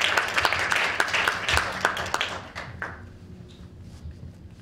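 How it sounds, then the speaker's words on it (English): Conference audience applauding after a speaker's introduction, a dense burst of clapping for a couple of seconds that thins to scattered claps and fades into room noise. "A big round of applause, please."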